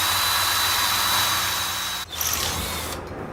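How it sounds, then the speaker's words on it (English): A power drill whirs steadily at close range drilling through wood, briefly cuts out, then spins up again with a slightly strained, grinding tone. "then we're going to drill through the wood."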